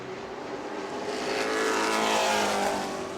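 Sportsman race cars racing at New Smyrna Speedway, a loud engine roar swelling as the pack passes close, then easing slightly.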